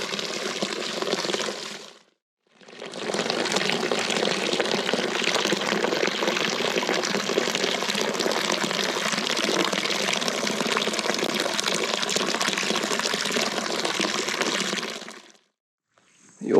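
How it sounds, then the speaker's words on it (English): Water still flowing from an old well, a steady close splashing trickle that runs almost the whole time, broken by a brief pause near the start and stopping just before the end. "the water's still flowing today"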